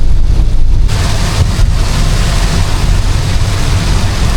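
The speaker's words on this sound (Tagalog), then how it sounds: "Lalong lumakas yung ulan nung papasok ng Batangas Pier." A dense, loud wash of heavy typhoon rain hisses continuously near Batangas Pier in the Philippines, with a deep rumble underneath and no voices.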